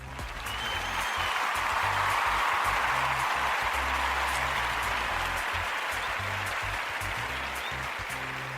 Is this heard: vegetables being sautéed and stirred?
no